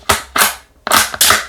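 A Hatsan Escort .22 LR rifle is dry-fired with a training round into a floor, giving four sharp, close mechanical clacks in two quick pairs.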